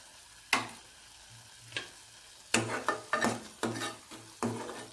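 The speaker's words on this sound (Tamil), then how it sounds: "இதை நல்லா கலந்து வச்சுக்கலாம்." Soaked, ground cashew paste is stirred into simmering paneer butter masala. Soft, quiet scraping strokes come in irregular bursts, a few clustered together, over a faint background with no speech.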